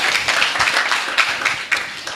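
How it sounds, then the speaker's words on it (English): An audience at a community-led monitoring regional dialogue applauding, a short burst of brisk, dense clapping from many hands in a room. "Let's add him another round of applause."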